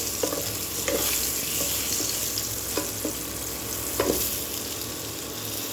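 Food sizzles steadily in a pan seasoned with a little turmeric and salt, a continuous close frying hiss broken by a few soft stirring clicks and scrapes, with no voices.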